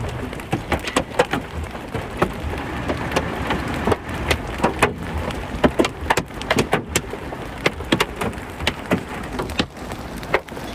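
Hailstones pelting a car during a storm chase near Denver, a dense drumming of sharp impacts on the body and glass, with louder individual cracks scattered through a steady roar of smaller strikes.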